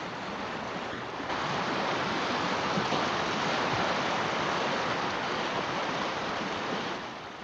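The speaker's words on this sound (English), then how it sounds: "Myriads of miniature rills converge, swelling the waters of streams and rivers, exchanging the silence and stillness of winter for the boisterous exuberance of early spring." Spring meltwater streams and rivers flowing in early spring thaw, a dense continuous rushing of water that swells slightly after the first second and holds steady and full.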